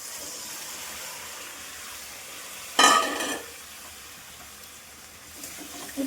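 Dal added to a hot pan with tomatoes and ground spices, a sudden burst of sizzling as it hits the oil, then fading to a quieter steady hiss with faint stirring.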